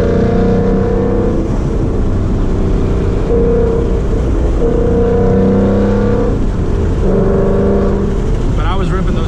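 A 2019 Mustang accelerates hard through the gears, with loud, close engine roar that climbs in pitch, drops at each shift and climbs again several times, with some voice mixed in.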